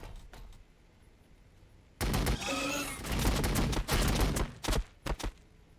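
Gunfire in the strategy game Warhammer 40,000: Battlesector starts abruptly as a loud sustained burst of rapid shots, continuing in dense volleys, then a few sharp separate cracks before it fades.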